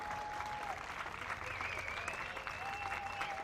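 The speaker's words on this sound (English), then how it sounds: "The Spanish players just applauding the crowd," Stadium crowd applause as Spain's national football team players clap back toward the supporters in Berlin, a dense, steady wash of clapping and crowd noise from a distance, with a faint whistle-like tone drifting above.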